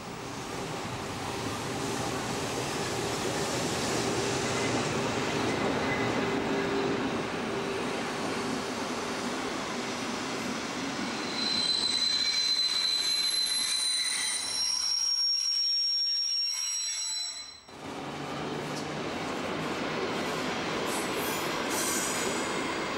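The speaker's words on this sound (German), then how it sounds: "Einfahrt hat der Zug nach Königshütte." A Class 171 electric locomotive (E 251) rolls into Rübeland station on the Rübelandbahn, a loud, steady rumble of rail wheels giving way to high squealing wheel screeches, a brief near-silent gap, then rumbling again.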